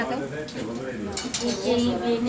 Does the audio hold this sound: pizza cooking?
yes